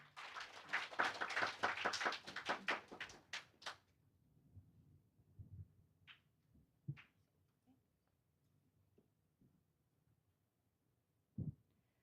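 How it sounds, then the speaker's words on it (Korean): Applause from a forum audience on data innovation rises dense and fairly close for about four seconds, then thins into a few scattered claps and small sounds, with a faint thump near the end. "앞으로 나오실 때 큰 박수 부탁드립니다"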